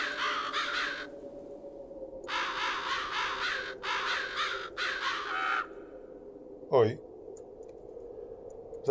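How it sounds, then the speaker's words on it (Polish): A talking raven in the video game Book of Demons gives harsh, raspy caws in several clustered bursts, fairly close and clear, followed by a short swooping game sound. "o, kruk gada"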